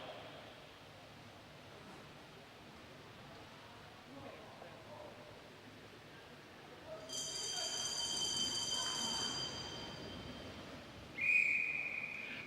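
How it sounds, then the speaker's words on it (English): A whistle at a junior track cycling race heard over a far crowd wash, first a bright shrill tone held for a few seconds, then a shorter sharp blast near the end, with a general hubbub underneath. "The whistle sounds and your gold medalist there will be the rider"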